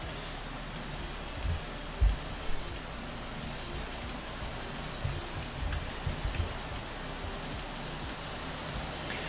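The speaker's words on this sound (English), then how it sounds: "I hope the rain noise is not getting too much" Rain falling steadily outside a room where someone works on a sci-fi horror game in Unreal Engine 5, a soft continuous patter with a few louder close drops and thumps.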